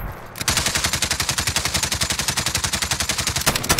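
Rapid automatic gunfire from Call of Duty: Warzone in a stadium match, a steady loud burst of evenly spaced shots running for several seconds with no talk over it.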